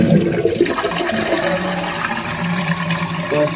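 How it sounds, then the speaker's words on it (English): A newly fitted toilet in a gaming room flushes with a loud, close rush of swirling water that keeps pouring steadily throughout. "This is going to be the first flush."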